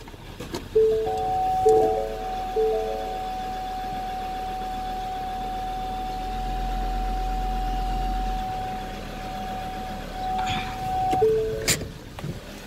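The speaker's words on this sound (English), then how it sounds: "Car's throwing a fit because I'm backing up with the door open" Ford Ranger door-open warning chiming while reversing, a steady electronic tone repeating in short beeps then sustaining for about ten seconds over a low idling engine, with occasional clunks nearby.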